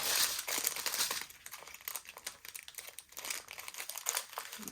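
Plastic bag of ArtDot square drills for diamond painting being handled and opened, a quiet close crinkling and rustling that comes in uneven bursts.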